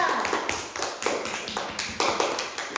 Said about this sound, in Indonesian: beri tepuk tangan dulu untuk kelompok Dirga.